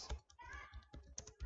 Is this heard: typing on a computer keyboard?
yes